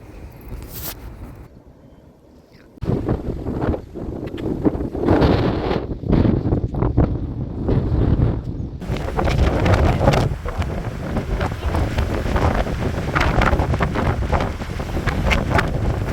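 Strong wind buffets the microphone at a hilltop viewpoint near Surinsar, Jammu, a low roaring rumble that grows louder after a quieter opening and keeps gusting steadily throughout.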